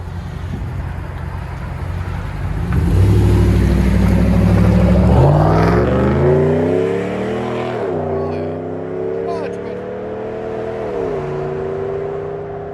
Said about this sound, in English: Ram 2017 with a race bullet, Dynomax, and muffler delete.